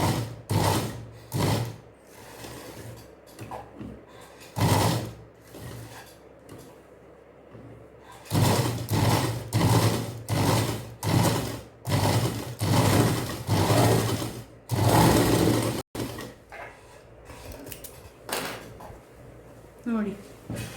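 A domestic sewing machine stitches the neck of a churidar, turning as it goes, in repeated short mechanical runs with a rhythmic clatter, stopping and starting, while someone talks throughout.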